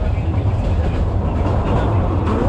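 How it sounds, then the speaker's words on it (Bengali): The Upaban Express stands at the station, a loud continuous rumble of the train with a steady low drone filling the whole moment, no voices clearly heard. "এটাই হচ্ছে উপবন এক্সপ্রেস, আর এটাতেই আমরা সিলেট যাব।"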